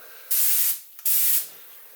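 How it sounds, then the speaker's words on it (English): Two short bursts of paint spray hissing close by, each lasting under half a second, separated by a brief click, during a 1971 Mustang Mach 1 restoration. "this is the first time spraying in here"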